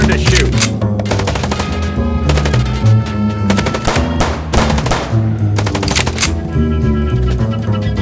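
Rapid gunfire in the video game Chicken Police rattles out in loud bursts of repeated shots, with brief gaps between volleys and game music underneath.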